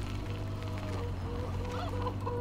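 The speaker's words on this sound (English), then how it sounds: "so this is a chicken farm here" Chickens on a farm in the Farming Simulator 17 video game cluck faintly and intermittently over a steady low engine-like hum, with no talk.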